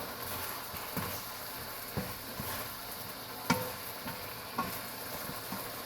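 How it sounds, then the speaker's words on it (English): A stir-fry sizzling softly in a pan as it is stirred, with steady low frying hiss and faint, periodic scrapes and taps of the utensil against the pan at roughly one-second intervals. "Stir this up."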